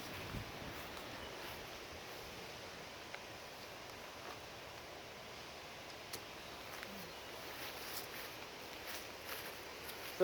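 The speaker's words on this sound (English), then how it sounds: "And as you can see, it's gotten windy." Steady, faint wind noise blows outdoors at a campsite tent with light rustling, no voices, constant throughout.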